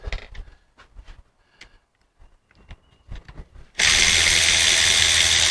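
Loud continuous power tool whir, likely a drill or driver, starts abruptly partway through and runs steadily to the end, taking out a small bolt over the valve on a 1955 Triumph TR2 overdrive unit; quiet handling clicks come before it.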